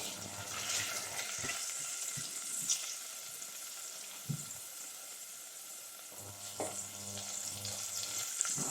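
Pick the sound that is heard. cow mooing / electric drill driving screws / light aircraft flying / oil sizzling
oil sizzling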